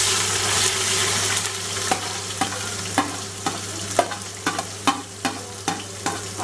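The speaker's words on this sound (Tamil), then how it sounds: "ஆனியன் கொஞ்சமாக வதங்கட்டும்." Onions sauté in hot oil with whole spices for chicken dum biryani, a bright sizzle punctuated by regular spatula scrapes and taps roughly every half second, with a steady low hum beneath.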